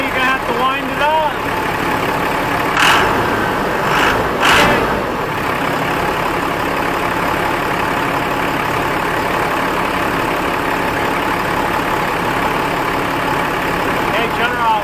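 A Cummins diesel engine cranks, catches and runs at a rough idle, a low, steady mechanical rumble close by, with a couple of sharp bursts early on and people talking over it.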